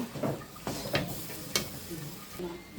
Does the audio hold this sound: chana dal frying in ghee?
yes